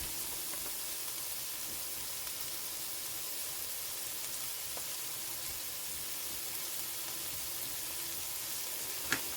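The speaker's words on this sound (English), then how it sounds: "See our gravy's coming to a boil here." Gravy coming to a boil in a pan, heard as a faint, even hiss of bubbling and sizzling that runs steadily throughout, with a single small click near the end and no talking.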